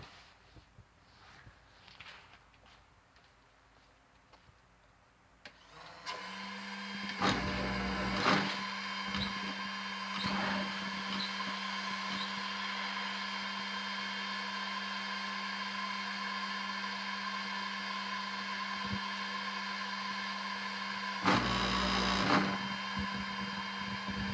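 A Predator 8750 portable generator starts up after a few seconds of quiet handling noises, then settles into a loud, steady engine drone with a strong constant hum, interrupted by a few brief knocks and bumps.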